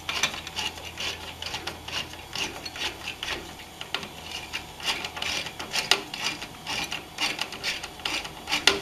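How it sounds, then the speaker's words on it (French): Screwdriver tightening the spring-loaded mounting screws of a CPU cooler on a motherboard, a close, steady series of small ratcheting clicks and scraping turns without talk. "il suffit donc de visser chaque vis"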